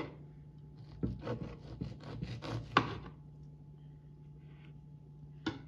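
A knife saws through a roasted pork roast on a wooden board in a quick run of rasping back-and-forth strokes, close and fairly quiet, followed by a pause and one last cut.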